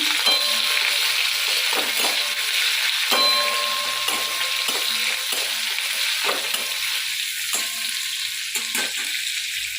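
Chopped onions fry loudly in a wok with whole cumin and a dried red chilli, a dense close sizzle punctuated by repeated spatula scrapes and metallic clinks at irregular intervals.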